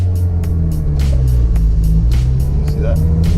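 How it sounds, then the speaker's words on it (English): A manual-transmission car pulls away in first gear, a low engine rumble running steadily close by under a person talking. "So you put it in first gear, and this is how you have to take off, right?"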